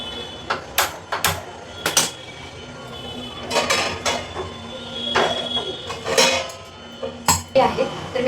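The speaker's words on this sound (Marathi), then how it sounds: "आणि परत एकदा व्यवस्थित हलवून घ्यायचं." A pot of food stirred with a metal spoon, sharp clanks and scrapes against the vessel coming in irregular bursts, close and fairly loud, with quieter stretches between.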